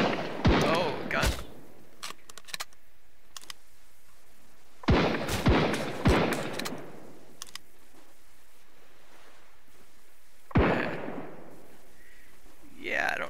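Gunfire in the video game Sunkenland, with several sharp loud shots in short bursts separated by quiet stretches over an ambient watery background, and someone talking briefly between them.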